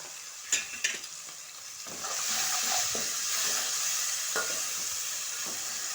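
Salted onions being stirred in a pan: a couple of sharp spoon knocks at first, then a steady frying sizzle with soft scraping strokes, close and moderately loud, with no talking.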